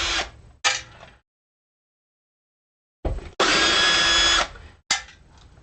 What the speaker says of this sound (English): using a drill to remove pickguard screws is just fine